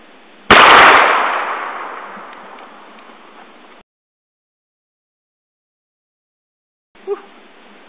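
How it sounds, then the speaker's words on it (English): A single sharp gunshot from a .22 Ruger Magnum firing a full metal jacket round into an HP desktop hard drive and case, a loud close crack that rings out and decays over a few seconds, then silence and a faint clink. "Again, another clean penetration shot with the full metal jacket."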